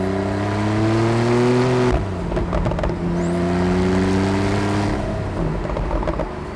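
Porsche 911 Carrera 4S (991.2) accelerating hard in second gear, engine revving loudly and rising in pitch, a quick gear change near two seconds, then pulling strongly again with steady road roar and no talk.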